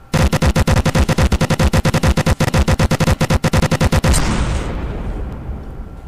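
A custom rapid-firing cannon in the naval game From The Depths fires a loud, machine-gun-like stream of booming shots in a fast steady rhythm for about four seconds, then stops and leaves a fading rumble.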